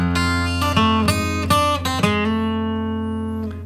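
Acoustic guitar overdub line from a song, played as a short run of plucked notes with ringing harmonics that settle into a sustained, slowly fading final note, played solo with no voice.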